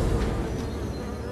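A bee buzzes close by in a steady, continuous drone with slight swells in loudness, alone with no voices.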